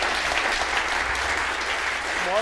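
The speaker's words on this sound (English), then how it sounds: "So give both speakers, please, a warm applause." An audience claps continuously, a dense, even wash of applause held at steady volume throughout.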